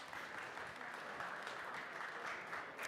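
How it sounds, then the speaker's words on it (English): Steady applause from an audience, a dense even patter of many hands clapping throughout, fairly loud and continuous with no talking. "Applause, applause."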